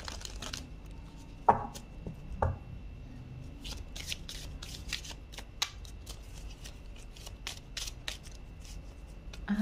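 Romance Angel oracle cards are shuffled by hand in a quiet room, giving a series of crisp riffling snaps and soft papery slides with a couple of sharper bursts, close and alone.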